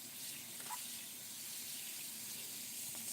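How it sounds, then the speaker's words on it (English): Water runs steadily from a tap while hands are rinsed under it, a faint continuous hiss with no talking. "So I can rinse my hands."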